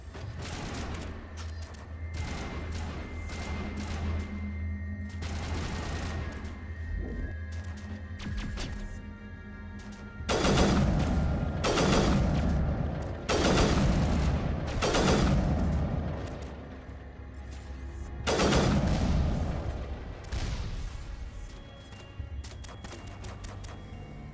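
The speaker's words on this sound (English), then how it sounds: "This sniper rifle I found is pretty badass. I love the semi-auto." Semi-automatic sniper rifle fire in Mass Effect, loud separate booming shots spaced apart over a busy battle background of explosions and crashes, without voices.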